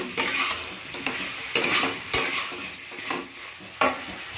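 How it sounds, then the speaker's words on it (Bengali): Sambar spice masala stirred with vegetables in a pan, a spoon scraping and turning with soft sizzling, several distinct scrapes spaced through the stretch, close and fairly loud with no talking. "তো মশলাটা ভালো মতন সবজির সঙ্গে নেড়ে চেড়ে নিয়েছে"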